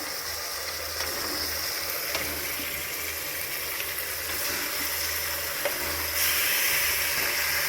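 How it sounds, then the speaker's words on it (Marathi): Marinated mutton fries in a pan with a steady sizzling hiss beneath a low, rhythmic mechanical hum, the sound even and close throughout with no speech. "आणि मटण टाकून घेऊया। मटण हे मॅरिनेट केलेलं आहे मस्त।"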